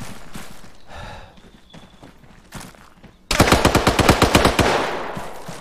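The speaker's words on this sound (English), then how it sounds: "Shots coming from the west, no eyes at the moment." Automatic gunfire in the military shooter Arma 3: a sudden, loud rapid burst of close shots cuts in after a quieter stretch of distant rumble and clatter, then rattles on steadily to the end.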